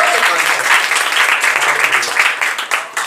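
A church congregation at an Easter service claps loudly and continuously, a dense, sustained roar of applause that carries on throughout with slight swells and no let-up.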